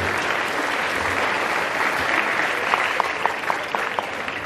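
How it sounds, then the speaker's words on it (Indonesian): A crowd gathered for an Islamic religious talk at a housing complex in Sumatra breaks into loud, dense, sustained applause, steady throughout with a few sharper claps standing out near the end. "Sekali lagi tepuk tangan yang lebih kuat untuk di Aceh."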